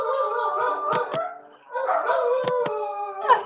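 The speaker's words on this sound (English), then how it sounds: "my dogs have decided to bark in the middle of my motion" Several dogs indoors bark and howl together in drawn-out, wavering cries broken by short sharp barks, loud and close, with a brief lull midway.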